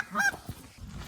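A flock of geese honks during an Oklahoma goose hunt as the birds are called in. A few loud, close honks burst out at the start, followed by fainter, scattered calls.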